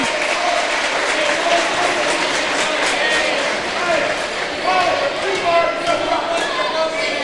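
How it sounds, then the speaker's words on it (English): Crowd at a high school boys' basketball game gives a player a warm ovation, steady loud clapping with scattered cheers filling the gym for several seconds without letup. "gets a nice ovation from the crowd"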